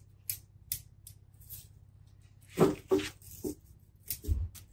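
Small pruning scissors snip scorched leaves off a maple bonsai, giving a series of sharp, close metallic clicks spaced irregularly, with a quick cluster of cuts near the end and no talking.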